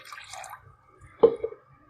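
About one and a half glasses of water are poured over marinated chicken in a pot for homemade mandi, giving a brief close splash and drip that swells and then trails off.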